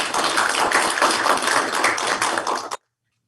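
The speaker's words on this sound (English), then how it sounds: "let's give everybody probably a big round of applause" Applause at a Board of Education meeting, a dense, steady round of clapping from a roomful of people, close and loud for under three seconds before it cuts off abruptly into silence.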